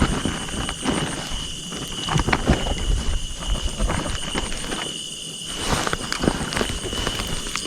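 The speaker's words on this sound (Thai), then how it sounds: "ฝนตกครับ" Rain falling outdoors in a Thai rice field, a steady patter with scattered sharp impacts and a few low rumbling swells, close and moderately loud, no voices.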